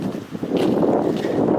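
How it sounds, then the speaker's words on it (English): Steady wind buffeting an exposed spot in the Dolly Sods Wilderness on a spring backpacking trip, a continuous broadband rush with gusty swells and low microphone rumble, no voices. "it's been pretty consistently windy"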